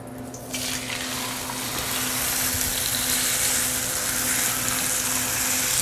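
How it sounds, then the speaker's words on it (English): Skate wing fillet sizzling steadily in hot oil in a pan, a dense continuous frying hiss that stays loud and even throughout, with no talk. "After patting it dry, we're going to go directly into the pan, placing the fillet away from us so that there isn't any splatter of oil."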